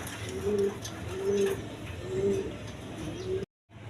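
Large pigeons coo in a slow, repeating rhythm, about four low throaty calls, close by over a constant background hum before a brief cut to silence.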